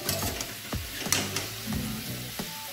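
Elephant yam pieces sizzle and crackle in a hot pan, with a few sharp scraping stirs of a spatula punctuating the steady frying.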